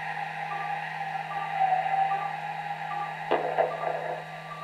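Lorenz FuBl 2 blind landing beacon tones come through as faint beeping over a constant radio hum and static, with a short burst of interference near the end.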